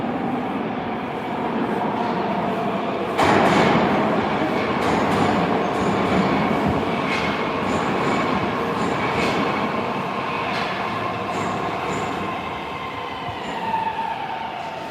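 A St Petersburg metro train on the Red Line runs through a station of the 1960s–1980s era, with a loud, continuous rumble, a surge of noise a few seconds in, and rhythmic wheel clatter and faint squeals throughout.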